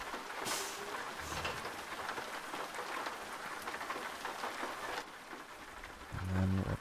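Rain in the video game American Truck Simulator, a steady dense patter drumming on the truck, loud and continuous, easing briefly near the end before a low rumble swells.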